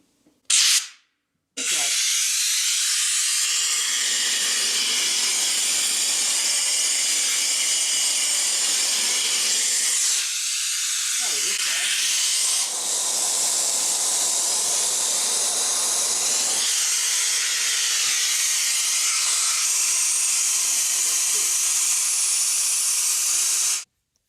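Compressed air hisses steadily and loudly out of a hand-squeezed nozzle fitted with a funnel, a long broadband rush that begins after a short puff and holds for over twenty seconds with only brief dips in strength.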